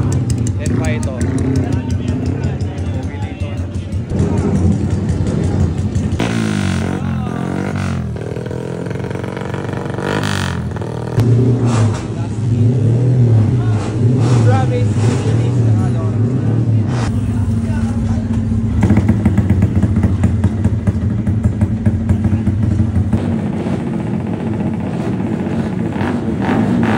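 Racing motorcycles at a race track roar and rev at close range, their engine noise rising and falling in repeated passes, while people talk over much of it.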